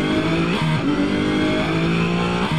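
A race car engine in Assetto Corsa roars loudly and steadily, with the pitch climbing through the revs and briefly dropping at gear changes.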